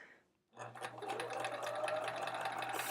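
A sewing machine stitching fabric for a quilt block starts after a short silence and runs as a steady, moderately close whir, ending with a sharp louder burst.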